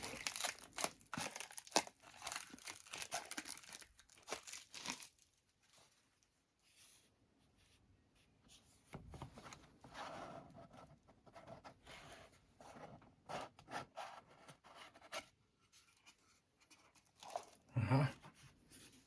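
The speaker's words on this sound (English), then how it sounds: "Another box inside the box. Another plastic wrapping." Plastic wrapping is peeled and crinkled off a boxed Miyajima Infinity mono phono cartridge, a box nested inside another box, giving quiet, intermittent crackling and rustling bursts with pauses and one sharper crinkle near the end.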